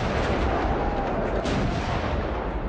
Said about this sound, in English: Eventually, Ibrahim Pasha manages to breach the northern walls with cannon fire,